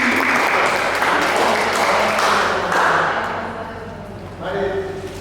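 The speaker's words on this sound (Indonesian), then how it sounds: "Kita berikan aplaus." An audience at the closing of a library ICT training session claps loudly and continuously for several seconds. The applause eases near the end with a brief swell, and voices mix in throughout.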